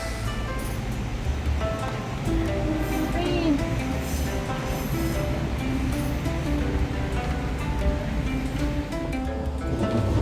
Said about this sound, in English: Shifen Waterfall.